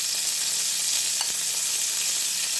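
Marsala-sautéed onions tossed onto burgers in a hot cast iron skillet give a steady, even sizzle with a faint clink partway through, with no voices.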